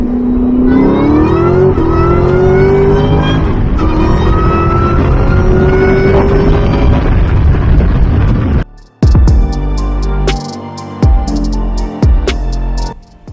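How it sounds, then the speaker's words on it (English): A supercharged Ford Mustang SVT Cobra "Terminator" engine revs hard with a rising supercharger whine, then drops into a throbbing, popping idle with sharp repeated bursts, loud and close. "you could actually hear the supercharger"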